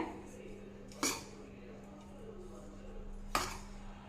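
Ground peanut and sugar powders being mixed in a bowl, with two distinct metallic scrapes or clinks of a spoon against the bowl in a quiet room.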